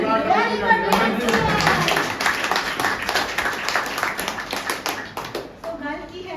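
A seminar audience claps together in a sustained burst of applause that runs for several seconds and then thins out, with voices faintly mixed in underneath.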